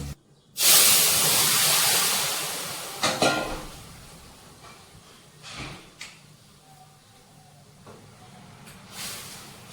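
Vegetables hit hot oil with fried cumin and onion in a home kitchen, a loud sudden sizzle that swells then fades into softer crackling, with a few clanks of utensils and no talk.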